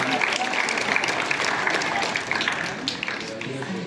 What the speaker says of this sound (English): Give a big round of applause to Mingma Tamang.